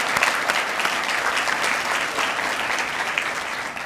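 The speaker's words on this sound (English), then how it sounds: "Let's give them all a big round of applause." An audience at a Women on Boards event in Cairns applauds the senior women ministers of the state government, a steady, dense clapping that holds at full strength throughout.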